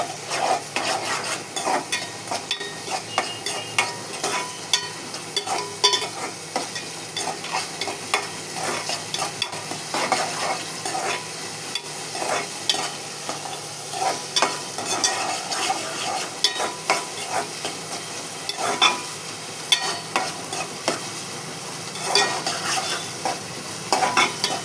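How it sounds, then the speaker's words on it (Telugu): Food frying in hot oil until golden gives a steady close sizzle, with repeated scraping and stirring of a spatula against the pan running throughout. "అవి గోల్డ్ కలర్ వచ్చేదాకా వేయించుకోవాలి."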